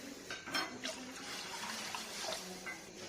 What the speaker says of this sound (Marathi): 2 ग्लास पाणी घालून घेतलं।